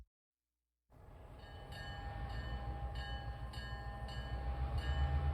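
A train passage opens a song, starting from silence and swelling into a rumbling train with repeated ringing, bell-like tones of a crossing signal that grow louder and closer, with no voices.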